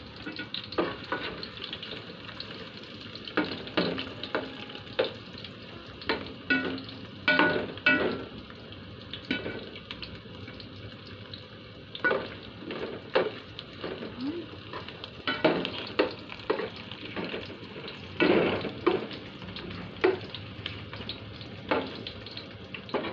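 Ingredients for paneer biryani frying in hot oil, a continuous close sizzle with frequent clattering stirs and scrapes of a utensil against the pan, with no talking.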